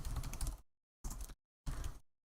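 Bursts of fast typing on a computer keyboard while writing Python code, three close, distinct runs of clicky keystrokes separated by short silent pauses.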